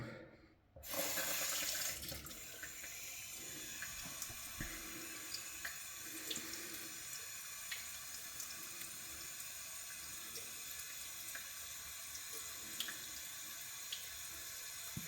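A tap runs water over a coticule hone, a steady splashing stream after a brief quiet start and an abrupt louder burst, with occasional small clicks and drips throughout.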